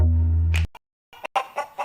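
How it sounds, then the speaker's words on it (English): Chickens at a farm feed store, a brief burst of clucking near the end after a steady humming tone and a short silence, fairly close and alone. "the chickens have arrived at Parker Family Feed in Bellwood, and that's no joke"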